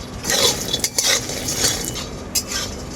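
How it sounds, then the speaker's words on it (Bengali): Lentil dumplings (bori) fry in a pan until red as a utensil stirs them, giving loud metallic scrapes and clinks in uneven bursts over a faint background sizzle. "বড়িগুলোকে খুব সুন্দর করে লাল লাল করে ভেজে নেব আমি"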